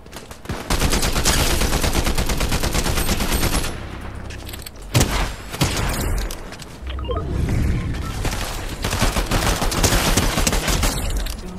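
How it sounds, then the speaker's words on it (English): Sustained rapid gunfire in a shooter game, loud automatic bursts rattling for several seconds, breaking off briefly, then resuming in heavy volleys. "Where's he shooting me from?"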